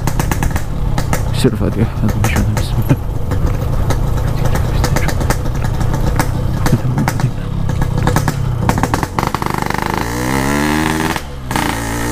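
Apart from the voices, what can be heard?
motorcycle engine with loud exhaust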